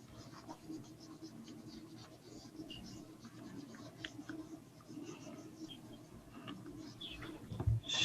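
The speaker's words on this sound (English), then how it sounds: "I will write it again." Faint scratching and tapping of handwriting during a spherical harmonics lecture, a quiet, irregular patter of strokes with small clicks and no talking.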